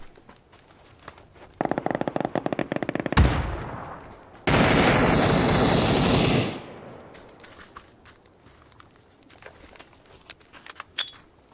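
Gunfire and grenade blasts in the battle-royale game PUBG: scattered faint shots, then a dense crackling burst, a sharp loud bang, and a second two-second roar of explosion before quieter intermittent shots return.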